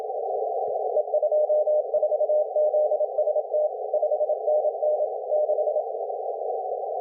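Morse code CW sidetone plays from a contest keyer file as a steady single-pitch tone, keyed into rapid dots and dashes over a constant background hum, with a few faint clicks.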